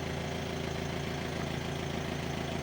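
A jeep engine idles steadily before a safari ride to Kolukkumalai near Suryanelli, a constant low rumble with a faint periodic knock, fairly close and uninterrupted with no talking.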